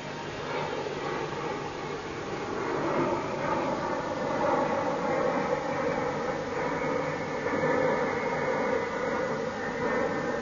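A Tupolev Tu-154 airliner's engines drone steadily in flight, a broad continuous roar that swells slightly and holds throughout, with no speech over it.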